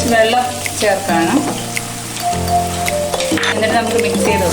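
Tomato and soy sauce sizzle and bubble in a pan for dragon chicken while a spoon stirs it, a loud continuous fry with scraping strokes and faint background music.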